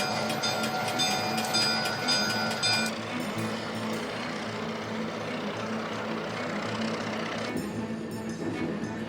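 A tourist train on the Yukon Route from Carcross, Yukon, to Skagway, Alaska, rumbles steadily along the rails, a dense mechanical roar with faint metallic tones early on, continuous and fairly close throughout.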